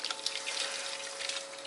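Tap water runs steadily as resin is rinsed down into a water softener tank, a close, continuous hissing splash with no talking.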